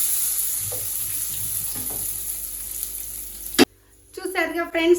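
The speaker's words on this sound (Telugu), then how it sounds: "ఇలా పోపు పోసుకోండి" Hot tempering poured into freshly ground tomato chutney in a stone mortar gives a sudden loud sizzle that fades out, then bubbling spattering returns, after a stretch of quieter kitchen noise.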